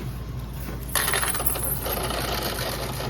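Coins drop into a supermarket's semi-self-checkout cash machine at a Marunaka store in Kurashiki, Okayama, a sudden metallic clatter followed by rattling as they settle, heard close over a steady machine hum.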